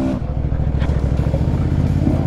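A Beta 300RR off-road motorcycle engine climbs uphill, a loud, close, steady drone that holds strongly without dropping away.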